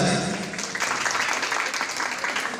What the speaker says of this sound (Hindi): सब लोग अपने लिए एक बार जोरदार तालियां बजा दें।